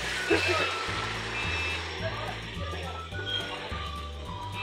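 Truck reversing, its backup alarm beeping in a steady repeating pattern of tones at moderate distance, while people talk nearby and an engine hums underneath.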